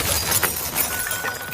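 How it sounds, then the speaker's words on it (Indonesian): Glass shattering loudly as a person is kicked out through a window, a bright crash with scattering shards over a short burst, heard alone without speech. "Akhirnya Lexi berhasil menendang cloningan Kayla keluar kaca."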